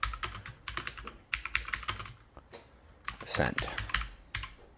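Keys clatter on a computer keyboard in quick irregular bursts of close clicks with short pauses between, while a person speaks briefly over the typing partway through.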